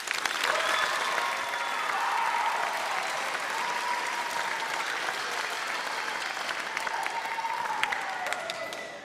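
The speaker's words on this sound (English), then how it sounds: "let's give them a round of applause for that" Sustained applause from a school concert audience for a middle school band, steady and dense throughout with no talk over it.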